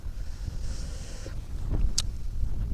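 Wind gusting along the bank of the Mekong River on a cold day, a steady low rumbling buffet on the microphone with a brief brighter rustle partway through, no talk.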